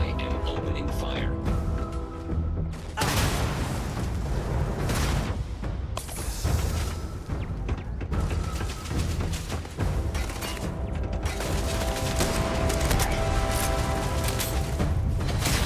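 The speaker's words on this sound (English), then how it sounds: "I am opening fire." Gunfire and heavy impacts from a firefight in the space game Starfield, a dense, continuous barrage of booming shots and mechanical clatter layered over game music and effects.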